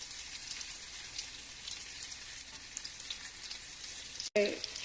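Egg-dipped bread bajji fries in a pan of oil with a steady, soft hiss and faint spattering, broken near the end by a brief gap and a light clatter.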